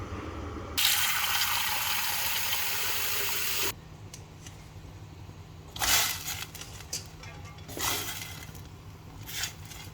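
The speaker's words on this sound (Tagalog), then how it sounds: "Yung tubig nilagyan ko ng salt at saka oil. At saka ito yung boil ko ng 6 minutes or 8 minutes." Water salted and oiled in a cooking pot on the stove gives a loud, steady rushing hiss for a few seconds, then quieter bubbling and sputtering bursts, close by with no talking.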